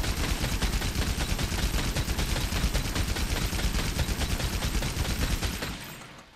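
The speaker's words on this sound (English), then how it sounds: "this particular Heavy Bowgun has the special ammo of Wyvern Heart. And what that allows you to do is basically be a moving Gatling gun" Heavy Bowgun firing Wyvern Heart ammo in Monster Hunter World, a relentless Gatling-style stream of loud, rapid shots for about six seconds before tapering off at the end.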